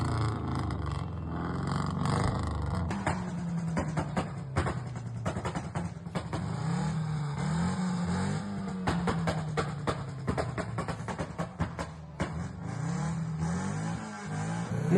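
A car's tuned exhaust note revving repeatedly, a loud, close burbling growl that rises and falls in waves, with crackling bursts between revs and no talking over it.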